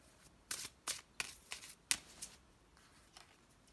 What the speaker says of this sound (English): let's shuffle these cards and see what message we have for you